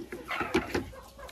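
Hens in a coop give a few short, close clucks in quick succession over a brief moment, with quiet rustling between them.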